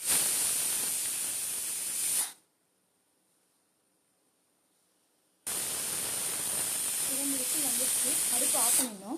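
Pressure cooker with beans rice inside venting steam in a loud, sharp hiss, two bursts separated by a few seconds of silence, with a voice talking faintly under the second burst.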